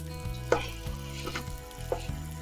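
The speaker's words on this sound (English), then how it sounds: "you are going to hear some sizzling" Ground bacon burger meat sizzles in a pan with a little water, a close, steady frying hiss broken by a few scraping stirs.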